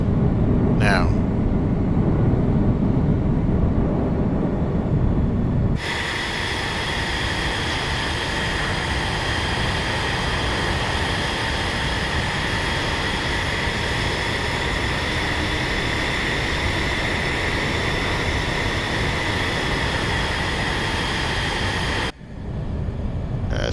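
F-35 jets flying together in a carrier formation flight, heard as a loud, steady jet roar that holds without letup for the whole stretch, with a brief shift in tone near the start.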